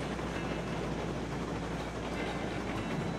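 Steam train in Railroads Online running on rails, a steady dense rumble and rolling clatter that holds loud and even throughout, with no voices.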